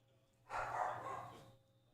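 A single dog bark or short burst of barking, about a second long, comes through faintly in an otherwise quiet room.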